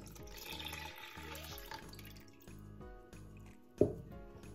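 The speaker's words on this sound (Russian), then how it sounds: "И добавляю оставшееся молоко." Remaining milk being poured into pancake batter, a faint trickling liquid pour over quiet background hum, ending in one louder splash near the end.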